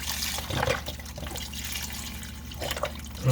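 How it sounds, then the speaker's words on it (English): Broth glugs from a carton into a soup pot for potato soup, a soft continuous liquid pour with small splashes over a low background hum, fairly close and moderately quiet. "And then we're going to go in with that broth. You want to use the whole carton."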